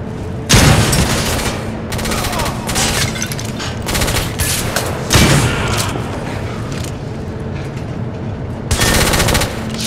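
Sustained automatic gunfire in a video game shootout, dense rapid bursts with loud heavy booms around one, five and nine seconds, filling the whole stretch.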